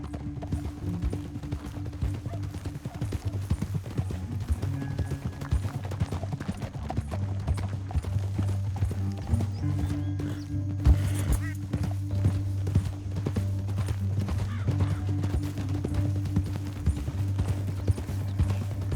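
Horse hooves clip-clop steadily through a western canyon scene in the video game Red Dead Redemption 2, a rhythmic trot mixed under a low droning music score and occasional character dialogue.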